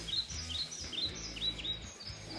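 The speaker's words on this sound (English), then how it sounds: "You can hear the birds twittering." Small birds twitter outdoors on a sunny mountain day, with scattered high chirps and short trills at a moderate distance over a soft breezy background.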